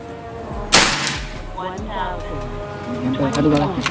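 A single sharp PCP air rifle shot cracks out loudly, followed by people talking and a faint rattling.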